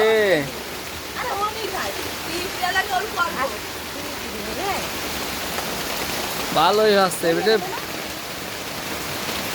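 Steady rain pours outdoors as a dense, even hiss that runs throughout, while people talk close by at intervals.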